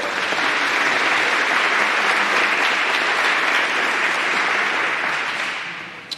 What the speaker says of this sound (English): Let's give a nice round of applause for our presenters today.